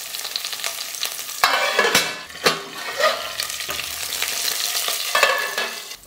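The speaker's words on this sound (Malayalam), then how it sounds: "എണ്ണ ചൂടാവുമ്പോൾ അര ടീസ്പൂൺ കടുക് ചേർക്കാം." Mustard seeds, chana dal, cumin and cut red chillies fry in hot oil with a steady loud sizzle and crackle, broken by scraping stirs and a few sharp pops; nobody talks.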